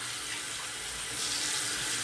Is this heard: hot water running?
yes